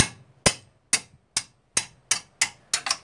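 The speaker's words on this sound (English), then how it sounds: "a big hammer like that you can let it go." A big hammer strikes the brake disc parts of a Toyota Yaris front brake, landing about nine sharp, ringing blows at an uneven pace, close and clear with no voices.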